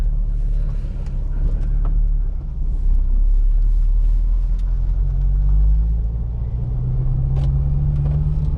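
8th gen Honda Civic Si pulling out of a parking lot, a steady close low engine rumble that rises in pitch as it accelerates, with faint knocks and no talk.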